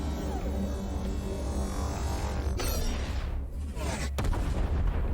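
A heavy cannon boom erupts in the space game Everspace 2, followed by a rumbling, crackling blast and a second sharp bang, loud over a steady game-like background.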